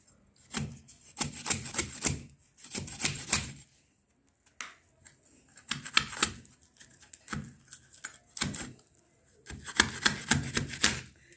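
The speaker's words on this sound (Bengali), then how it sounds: "পাকা চালতা তো কাটতে একটু সময় লাগে, এরকম করে সব বাটিগুলো আমি কেটে নেব" Ripe elephant apple (chalta) is sliced into pieces with a knife, giving bursts of crisp, rapid cutting strokes separated by short pauses, close and fairly quiet.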